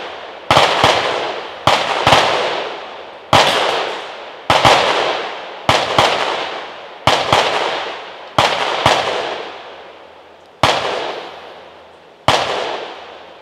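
Ten loud suppressed shots fire one at a time, a second or more apart, from a gun fitted with a Griffin Optimus silencer shooting Fiocchi 158-grain subsonic rounds, each sharp report trailing into a decaying echo outdoors.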